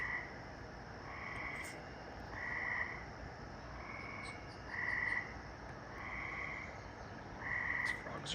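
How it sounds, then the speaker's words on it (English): Frogs croak at night in a steady chorus, with bursts of calls swelling roughly every second or two over a constant background din, fairly near and unaccompanied by talk. "These frogs are so loud"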